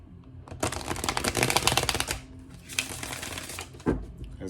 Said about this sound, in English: One more time I'm going to shuffle